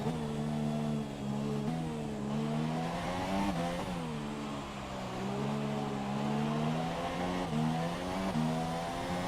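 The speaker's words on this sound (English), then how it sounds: "Let's do an on-board lap with 2-hour Brian." A race car engine howls on an on-board lap of the China circuit in a racing video game. Its pitch rises and falls steadily with quick drops at each gear change, and it plays alone at a moderate level.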